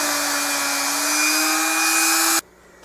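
A Franklin half dollar coin ring being polished on a spinning power tool: a loud, steady, close whir with a high hiss that cuts off abruptly near the end.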